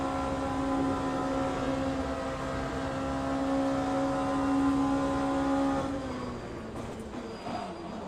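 Race cars in the sim racing game Le Mans Ultimate, a sustained close engine drone with a steady tonal whine, other cars bunched nearby, fading and changing pitch toward the end as the engine note drops.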